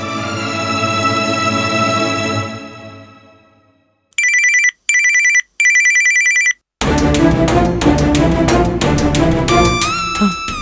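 A telephone rings in a repeated electronic pattern, three bursts of tones heard alone between stretches of dramatic television serial music.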